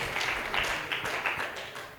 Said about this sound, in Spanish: Dale fuertes palmas de alabanza al Señor, hermanos.